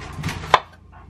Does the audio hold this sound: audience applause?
no